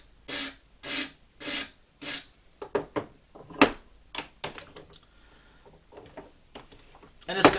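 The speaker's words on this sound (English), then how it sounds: "I'm just going to bob the corners with the rasp." A hand rasp files the corners of a flat-backed wooden pattern for duck decoy weights, first in four slow even strokes and then in quicker, irregular scrapes, all close by.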